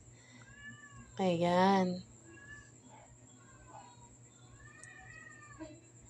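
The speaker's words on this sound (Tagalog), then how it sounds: "Iba kasi yung pusa pag bumibegs, ang ingay." A neighbour's cat lets out one loud, drawn-out meow close by, standing out above a quiet kitchen where a few words are spoken.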